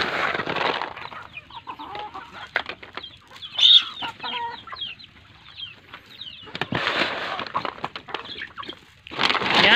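Small flock of native chickens on a farm clucking and calling near at hand while eating grower feed, with bursts of pecking and wing rustling between the calls.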